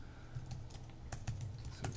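Keys clatter on a computer keyboard as code is typed, quick irregular taps that are faint against a steady low background hum.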